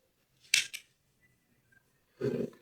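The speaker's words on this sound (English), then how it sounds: "Then I'll cut off the yarn," Scissors snip through crochet yarn after a beanie is finished, giving a close double snip followed by a softer rustle of handling about two seconds later.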